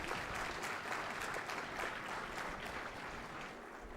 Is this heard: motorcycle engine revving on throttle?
no